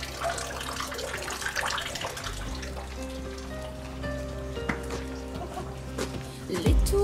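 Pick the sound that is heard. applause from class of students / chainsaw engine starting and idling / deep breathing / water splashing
water splashing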